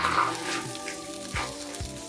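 Vegan mock meats sizzle and fry steadily in a pan while a spatula shreds them, with a few soft scraping strokes under the constant crackle.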